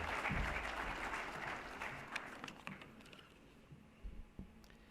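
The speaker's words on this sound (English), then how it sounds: "please join me and the audience, a big round of applause" An audience at an awards ceremony bursts into applause, loud at first and then tapering into scattered claps and a few sharp hand strikes toward the end, with no voices.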